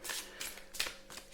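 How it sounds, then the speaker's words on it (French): Oracle cards are shuffled and a third card is drawn in a brief, faint, close run of quick papery riffles and flicks, with no talk. "je vais prendre une troisième"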